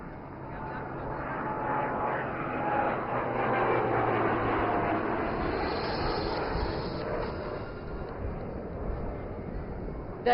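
Aircraft flying at the Aero India air show, a broad roaring whoosh that swells over the first seconds and then holds steady, with a faint tonal whine, at moderate distance.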